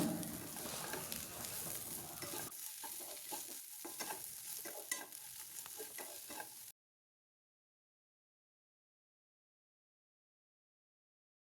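Lentils stirred in a pan with turmeric, chili powder and coriander powder, with a loud, close sizzle and scraping stir strokes for about seven seconds before an abrupt cut to silence.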